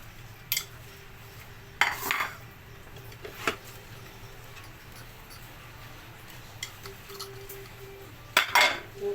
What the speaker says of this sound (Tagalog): Maghugas-hugas muna tayo ng plato.